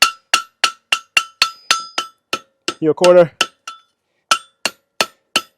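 A hammer rings on a horseshoe at the anvil during forging in a steady series of sharp, bright metallic strikes, with a short pause where someone speaks briefly.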